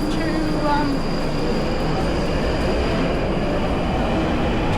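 Steady low rumble of a train and station machinery at King's Cross St Pancras, London, with a constant high whine and faint voices in the background.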